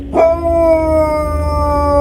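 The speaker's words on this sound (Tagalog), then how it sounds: "Biglang nag-alulong ang Siberian Husky na dala ng may-ari." A Siberian Husky gives one long, drawn-out howl that rises sharply and then holds a steady, tonal wail, loud and close, over a low background hum.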